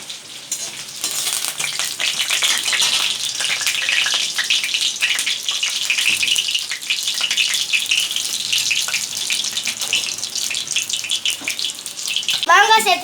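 Mustard seeds crackling and spluttering in hot sesame oil in a pan, a dense continuous popping hiss that holds strong throughout at close range.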